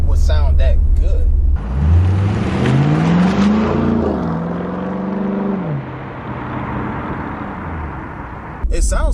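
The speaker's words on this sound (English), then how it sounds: "I didn't think that a muffler delete on here would sound that good." A 2014 Chevy SS with a V8 and a muffler-deleted exhaust revs up, rising through a loud, throaty climb, holding briefly and then falling back, with speech before and after the rev.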